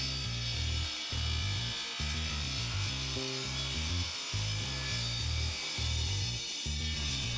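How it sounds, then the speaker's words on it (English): Table saw trimming the edges of a pallet wood end grain cutting board: a loud, steady blade whine and rough cutting noise running throughout, pulsing in several successive passes with brief dips between cuts, no talking. "here I'm just simply cleaning up the edges of the cutting board on the table saw to get them nice and flat and square"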